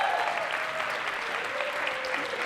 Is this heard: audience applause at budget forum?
yes